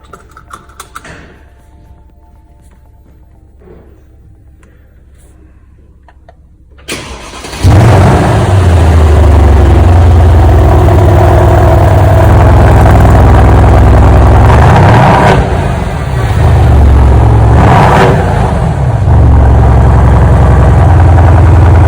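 A Mercedes-AMG C63 S engine fires up after a quiet stretch, bursting into a loud, deep rumble that settles into a steady idle with a couple of throttle swells, heard close and alone.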